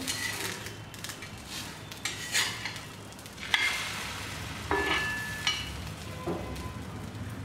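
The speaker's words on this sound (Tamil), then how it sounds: "இப்போ அடித்து வச்சுருக்க முட்டையை ஊற்றலாம் இப்போ ஒரு நிமிஷம் வந்துருச்சு இப்போ திருப்பி போடலாம்" Beaten egg for an omelette sizzles softly in a pan, a faint steady frying hiss close by, broken by a few light clinks and scrapes of a utensil against the pan.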